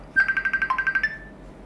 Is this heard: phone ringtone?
yes